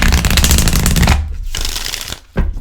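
A deck of tarot cards is riffled and shuffled in a fast, dense flurry of papery flicks, then a couple of shorter shuffles follow after brief pauses.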